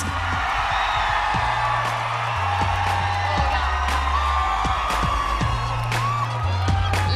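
A pageant audience at the 2010 Miss Universe preliminary competition cheers and whoops for Miss Philippines, a dense, loud crowd roar that holds steady throughout, with scattered shouts and a voice over it.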